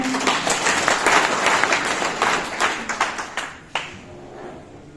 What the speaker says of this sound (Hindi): इनके लिए एक तालियां तो बनती हैं।